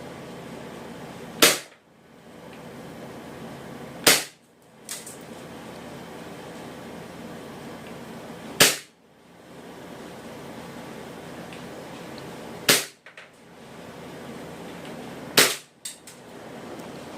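A WE Glock airsoft pistol fitted with an extended magazine fires five sharp, loud single shots at irregular intervals of a few seconds, each a crisp crack over a steady background hiss.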